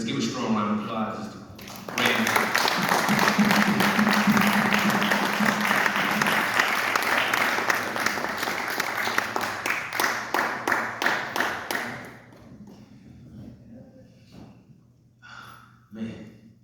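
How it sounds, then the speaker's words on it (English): A crowd at a Marcus Garvey birthday celebration breaks into loud, sustained applause for about ten seconds, then thins into scattered claps, with a speaker's voice before and after. "Let's give a strong round of applause."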